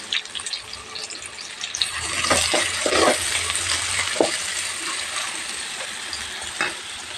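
Onions, green chillies and curry leaves fry in hot oil in a pan for a fish curry, giving a steady close sizzle with occasional stirring scrapes and small bursts.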